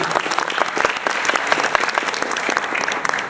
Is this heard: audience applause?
yes